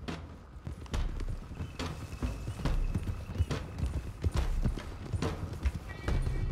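Several horses trot together in Red Dead Redemption 2 as a gang rides out, with dense, overlapping hoof clip-clops at a steady, moderately loud rhythm, plus faint tack and movement noise.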